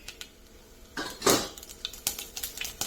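Pans and utensils clatter on a home kitchen stove while coconut oil heats for ginger pachadi, a few light metallic knocks and a louder clank mid-way, close and alone.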